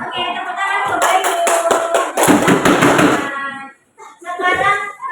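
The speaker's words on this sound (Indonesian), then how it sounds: "tepuk tangan" A classroom of students claps together during a teaching practice lesson, several bursts of rapid hand claps with some voices mixed in, a short pause, then another short round of clapping.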